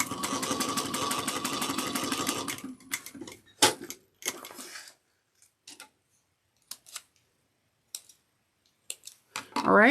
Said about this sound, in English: we're going to trim the seam allowance to 1/8 of an inch